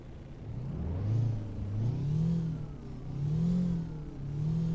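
A Kenworth W900 truck engine in American Truck Simulator idles with a low rumble, then revs several times in slow rising and falling surges. The engine is moderately loud and heard alone, with no voices.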